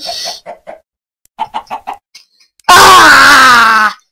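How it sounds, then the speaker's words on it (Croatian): Short bursts of Minecraft chicken clucking in quick groups, followed by a loud, drawn-out squawk that sounds slightly synthetic. "Kokoš!"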